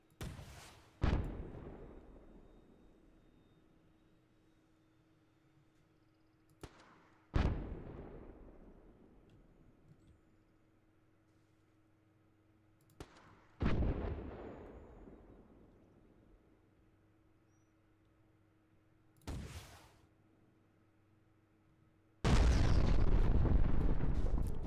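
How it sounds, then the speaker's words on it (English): In the Call to Arms war game with a French armoured division mod, heavy guns fire five loud, booming shots several seconds apart. Each rumbles away in a long fading tail, and a dense roar of noise comes at the end. "hopefully you guys should be able to hear the sound on these guns"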